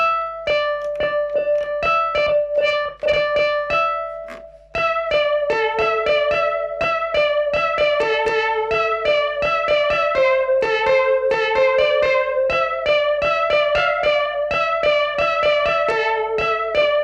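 A Yamaha PSS-390 digital synthesizer plays a bright, continuous stepping melody of tones, processed through an effects unit with a rhythmic pulsing texture.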